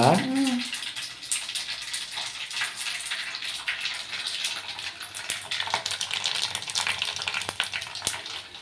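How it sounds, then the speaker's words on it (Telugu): Curry leaves drop into hot oil with a sudden burst of spitting, then keep up a busy, close crackle and sizzle. "కరివేపాకు వేస్తున్నా ఇట్లా కరివేపాకే ఎక్కువ సౌండ్ వచ్చేది"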